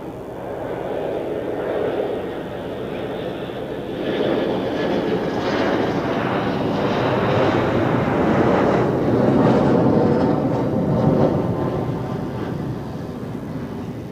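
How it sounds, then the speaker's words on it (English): A Helvetic Embraer 190 jet airliner arriving from Marseille at Zurich Airport, a sustained engine roar that swells gradually and peaks toward the end, alone without talk. "Next one, Helvetic Embraer 190 from Marseille in southern France."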